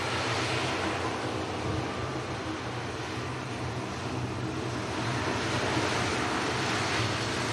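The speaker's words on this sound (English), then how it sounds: "Heavy Dreamliner." A heavy Boeing Dreamliner airliner at Manchester Airport gives a steady, broadband jet roar that stays loud through the whole stretch, with wind buffeting the microphone and no voices.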